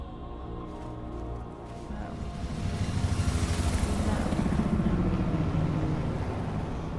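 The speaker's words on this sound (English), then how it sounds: "I don't like the helicopters." Helicopters fly overhead during a tense march scene in the video game Detroit Become Human, a rumbling rotor drone that swells louder midway and stays heavy and continuous.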